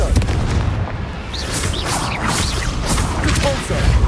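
In the video game Hogwarts Legacy, the Confringo explosive spell sets off booming blasts and crackling bursts amid continuous loud combat noise, with a voice speaking over the action.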